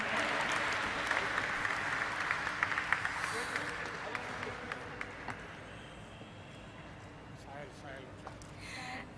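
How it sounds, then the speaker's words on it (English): Applause at a stock exchange listing ceremony, a dense spread of clapping that stays steady for several seconds and slowly thins out, with background voices mixed in. "Let us have a resounding of claps to celebrate this moment"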